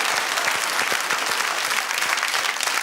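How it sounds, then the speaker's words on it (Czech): A studio audience claps for children in a dense, steady burst of applause that fills the whole short stretch without a break. "Zatleskáme dětem."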